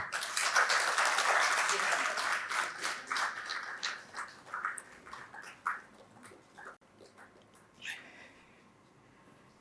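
Audience applause breaks out as a guest speaker is welcomed and honored at a Gujarati lecture event, a dense burst of clapping that is loudest at first and then thins into scattered claps before fading.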